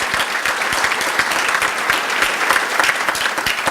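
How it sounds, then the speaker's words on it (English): Audience applause for the staff and volunteers at the SALDEF 2017 National Gala, a dense, steady burst of many hands clapping close by that holds level throughout. "give a big round of applause to our staff and our volunteers"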